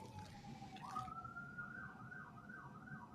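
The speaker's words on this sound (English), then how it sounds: "I hear police sirens." A police siren wails at a distance, a rising tone shifting into a fast repeating yelp, faint against low background rumble.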